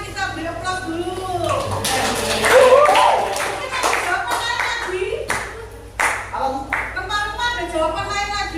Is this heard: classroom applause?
yes